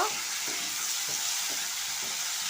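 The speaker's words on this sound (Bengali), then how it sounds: "চিংড়ি মাছটা আমি বেশি ভাজবো না, হালকা ভেজে নেব।" Turmeric- and salt-marinated prawns lightly frying in oil in a pan, with a strong, steady sizzle and rhythmic scraping from stirring every half second or so, close up and without talk.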